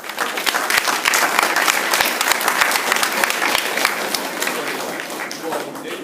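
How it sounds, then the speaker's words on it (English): A commencement audience gives a loud, dense round of applause, with distinct individual claps popping over the steady roar before it eases off slightly toward the end. "give you all a round of applause"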